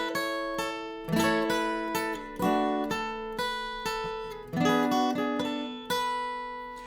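Acoustic guitar picks out the opening four bars of a song, clear close-miked notes ringing in a steady bright melodic pattern with no voice.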